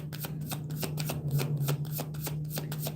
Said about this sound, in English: I could do a sloppy shuffle